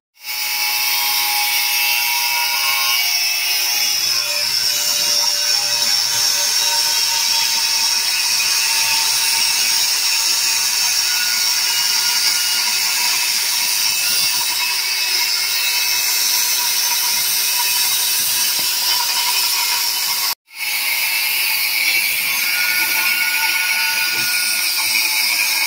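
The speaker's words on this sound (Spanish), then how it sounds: "Aquí tenemos la moladora, esmeril. Vamos a abrir." An angle grinder cuts into the steel shell of a seized three-phase Samsung inverter compressor, a loud continuous high whine and grinding roar that runs steadily, drops out briefly for an instant, then resumes.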